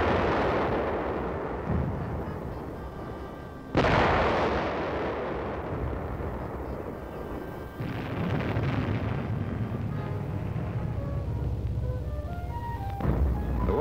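Artillery explosions and gunfire boom during a staged battle exercise near the Chattahoochee River. Several heavy blasts roll out with long rumbling tails under a continuous dense din of firing.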